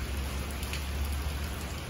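Steady rain falls in a backyard, a dense, even hiss of drops on surfaces, close and continuous with no other sounds standing out.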